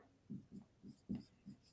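A pen scratches out short, quick strokes on paper while a math exercise is worked, about six soft, close scribbles in an uneven rhythm.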